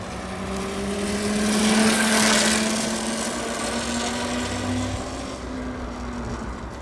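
An electric cafe racer motorcycle rides by with a steady motor whine and road rumble, swelling louder as it passes close and then easing off, with no talk over it.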